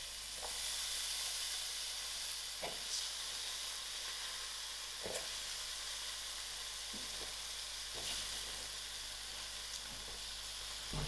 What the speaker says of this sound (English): I will allow this to fry for about 2 minutes.